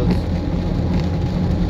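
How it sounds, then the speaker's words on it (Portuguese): Steady heavy rain falls during the rainy winter season in rural Ceará, Brazil, a dense, continuous wash of noise with no talk. "Muita chuva aqui."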